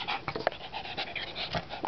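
A puppy panting while its hair is brushed, quick rhythmic breaths close to the microphone, with a few brief sharper sounds between breaths and no talk over it.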